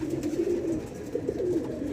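A pigeon coos softly and repeatedly, low throaty calls rolling in a steady rhythm at close range with no talking.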